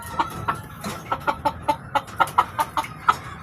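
Pet chickens cluck repeatedly while being fed, with short, sharp calls coming in a quick, uneven rhythm close by over a soft background.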